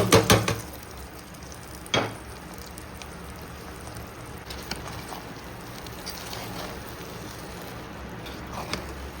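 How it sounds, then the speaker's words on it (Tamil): Cashews and raisins roast in ghee for a sugarcane-juice pongal, giving a soft, continuous crackling sizzle broken by a few sharp stirring knocks near the start and around the two-second mark. "முந்திரி பயிறு திராட்சை நெய்யில் வறுத்து"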